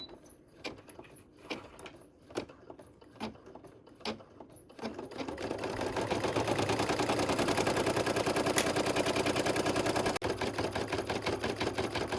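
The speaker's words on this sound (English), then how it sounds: "It outlined it first, and now it's coming back to do the heavy stitch." Embroidery machine sewing a heavy satin edge stitch on a coaster: a few sparse clacks at first, then a steady, dense, rapid mechanical needle chatter that runs loud and continuous to the end, with no voices.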